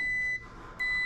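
Multimeter continuity beeper sounding on circuit wires while troubleshooting a tripping breaker: a steady high electronic tone that cuts out briefly and resumes, loud and close, with no voices.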